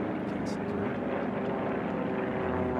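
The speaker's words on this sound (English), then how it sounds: "Never easy is what he calls that airplane as he comes across the line here at the home pylon" A Formula 1 class racing model airplane streaks past the home pylon at a championship race, its high-pitched engine whine sustained and loud over a busy outdoor background while a commentator talks.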